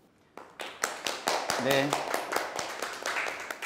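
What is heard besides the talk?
audience applause welcoming a speaker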